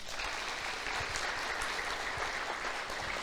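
Dense applause from a church congregation, steady and moderately distant, with no voices standing out.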